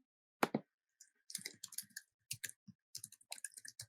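Quiet, scattered keystrokes on a computer keyboard during an online panel call, tapping in short irregular bursts with brief pauses, close and clear with no talking.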